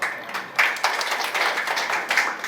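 An audience at a national conference of lung specialists, Pulmocon, at a beach resort in Kannur, claps in a brief, fairly close round of applause with uneven bursts.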